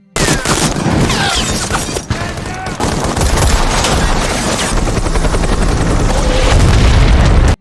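Loud, dense battle din: helicopter rotor roar with rapid bursts of gunfire and heavy booms, continuous and close throughout.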